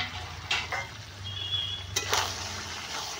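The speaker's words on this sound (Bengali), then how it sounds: "প্রথমে আমি ইঁচড়গুলোকে ঢেলে দিলাম।" Raw jackfruit pieces fry and get stirred in a pan, giving a steady soft sizzle broken by a few sharp scraping clatters of the spoon against the pan.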